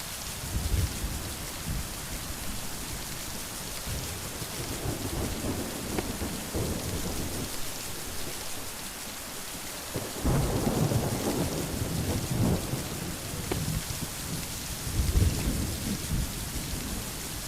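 A thunderstorm brings steady pouring rain on surfaces and repeated deep rolls of thunder, some close and loud, rumbling on and off throughout.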